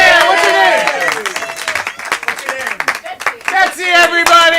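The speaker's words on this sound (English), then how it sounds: "Round of applause for Betsy!" Audience applause at a live comedy show, a sustained burst of dense clapping with some cheering from a crowd throughout, loud and close.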